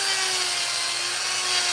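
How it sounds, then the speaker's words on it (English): Chainsaw running steadily while cutting wood during a chainsaw carving session, a continuous high-pitched engine whine with a steady tone, loud and close, with no voices. "Get that chainsaw out and get rid of all the rest."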